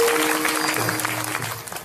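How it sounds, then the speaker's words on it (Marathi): A crowd claps together at a Varkari kirtan festival, a dense burst of hand applause that holds for a couple of seconds and thins slightly at the end. "एकदा सर्वांनी टाळ्या वाजवा."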